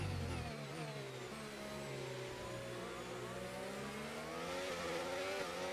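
Formula 1 race car engines in the F1 25 video game, a loud continuous high-pitched whine that rises and sweeps in pitch as the cars accelerate, with another car passing.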